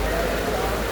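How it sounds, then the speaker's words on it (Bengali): Heavy downpour at the end of Baishakh in Kotpara, Faridpur, a dense steady roar of rain striking surfaces, loud and unbroken throughout. "অনেকদিন পর বৃষ্টি হচ্ছে এবং মুষলধারে বৃষ্টি হচ্ছে"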